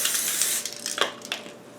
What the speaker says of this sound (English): If you want to, you can spray it with some olive oil